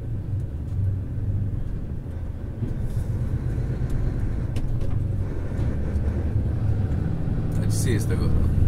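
Inside the cab of a loaded 58-tonne truck descending a mountain road, with the engine brake released, a deep, continuous engine and road rumble fills the cab. Someone talks over it.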